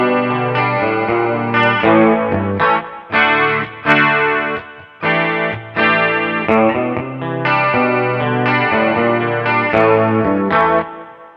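Electric guitar through a harmonist pedal with a shimmering chorus effect plays a song as a loud, continuous chordal riff with brief gaps between phrases.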